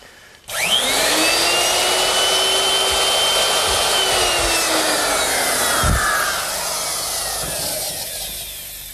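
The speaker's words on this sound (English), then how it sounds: "Now the router is set up with a half-inch straight cutting bit" A router fitted with a half-inch straight cutting bit whines up to speed and cuts into wood for a Shaker wall clock, a loud steady motor drone with the pitch dipping under load before easing off.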